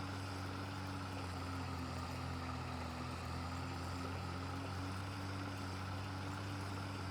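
Tractor engine in a farming video game drones steadily while pulling a large 300-horsepower plow through a field, a constant low harmonic hum with no talk.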